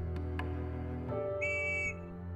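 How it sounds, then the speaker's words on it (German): A whistle in the video game Evoland II sounds as a thin, steady tone held for under a second, then a higher whistled note, over a low game backdrop with no talking. "Pfeif du mal schön, du Pfeife."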